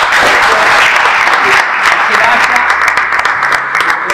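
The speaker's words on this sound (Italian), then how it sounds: "io farei un bel applauso al Presidente." A dinner event audience applauds the president with loud, dense clapping, the crowd sound most intense at first and thinning toward the end, while a voice speaks over the top.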